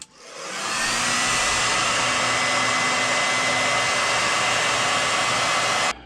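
A heat tool blows steadily at close range for about six seconds, setting a coat of iridescent paint on a dragonfly blank, its loud, even whoosh starting and stopping abruptly with no talk.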